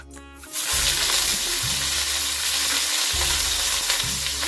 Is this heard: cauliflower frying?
yes